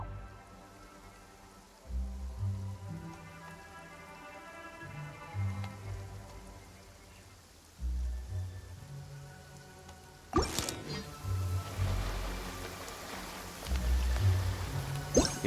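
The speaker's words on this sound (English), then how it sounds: "I like the rain." Rain patters steadily in the video game Genshin Impact, a soft continuous hiss of drops under low pulsing background tones, with a louder swishing burst partway through and the rain carrying on afterward.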